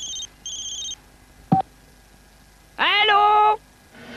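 Two short, high electronic ring bursts sound close by, followed by a sharp click and a brief rising warble, then quiet.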